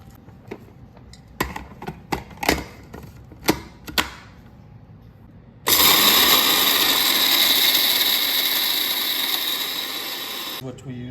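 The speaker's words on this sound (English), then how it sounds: "I need to grind the coffee." Several sharp clicks and rattles come first, then a coffee grinder for a DeLonghi espresso maker starts and runs as a loud, steady buzzing roar for about five seconds before cutting off.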